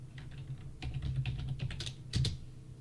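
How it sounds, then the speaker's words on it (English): Fingers type a command on a computer keyboard in AutoCAD, a quick close run of soft key clicks with a brief louder burst near the end. "So type in units in the command line here."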